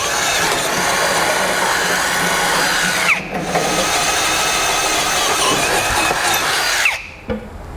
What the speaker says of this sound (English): Now that we have a pilot hole, we'll drill these out to the final size.